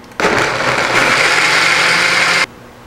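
A kitchen blender runs loudly and steadily with blueberries for canning syrup, a continuous whirring motor that starts abruptly, holds for about two seconds and cuts off cleanly, with no voices.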